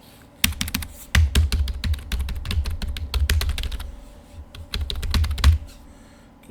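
Rapid computer keyboard typing during live intraday trading on budget day, dense irregular clacks with a few louder key strikes, close and steady throughout with no talk.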